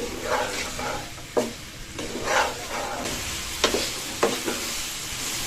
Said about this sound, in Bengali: তো পেঁয়াজটাকে ভালো করে লাড়া দিয়ে লাল লাল করতে হবে, একটু তেলের উপর ভাজা ভাজা করে নেব পেঁয়াজটাকে